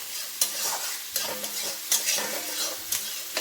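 Sliced onion frying with green chili in a pan, a loud steady sizzle broken by periodic scraping stirs and a few metallic clinks, close up with no voices.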